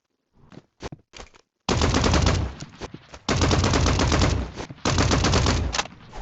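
Rapid gunfire in the Roblox Rivals video game: a few short single shots, then long loud automatic bursts broken by brief pauses, with no talking.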